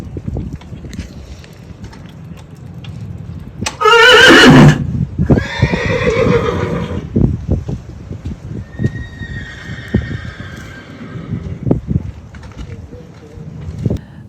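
Several horses in a parking lot whinny loudly, one long shrill neigh standing out, with hooves clopping and shuffling around them and fainter calls trailing off.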